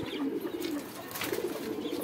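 Pigeons coo close by in a house, giving soft repeated low throaty calls in a steady rhythm with a faint rustling background and no talking.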